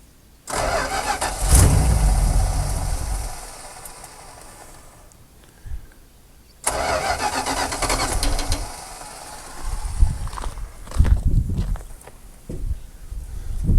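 An old Dodge Power Wagon, sitting unused for 16 years, cranks and fires up with a loud, rough roar, dies back, then catches again and runs unevenly, close by, with no talk.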